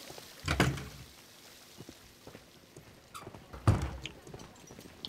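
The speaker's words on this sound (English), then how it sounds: "These doors make a lot of noise." A steam room door in a bathhouse in a detective game makes two heavy, clunky bangs, one early and one near the end, with faint knocks in between.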